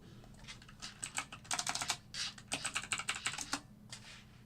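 Rapid bursts of clicking keystrokes on a computer keyboard, close and moderately loud, coming in uneven clusters with short pauses between them, and no voices.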